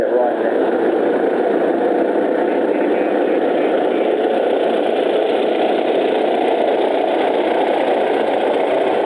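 A restored traction engine running on solid rubber wheels at a steam and traction society rally, giving a steady, loud, continuous mechanical drone that holds level throughout with no breaks.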